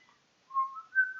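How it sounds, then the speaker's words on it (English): A person whistles a happy tune alone, a short bright phrase of a few sustained notes that step upward, clear and close. "Just whistle a happy tune."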